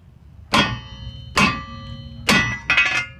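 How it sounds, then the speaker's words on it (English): A hammer strikes metal steering and front suspension parts on a vehicle, four sharp ringing clangs at uneven intervals, the last two close together, loud and near. "I'm gonna grab a hammer real quick."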